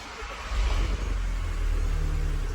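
An Audi/VW car with a DSG transmission turns over and settles into a low, steady engine rumble, running close by with no voices.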